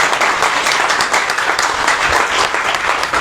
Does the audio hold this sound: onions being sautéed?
no